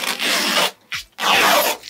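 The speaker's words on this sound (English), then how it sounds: "More plastic wrap." Plastic wrap rustles and crinkles while a HP DeskJet 4155e all-in-one wireless color printer is unboxed, in two close bursts of scratchy handling with a brief pause between, no voices.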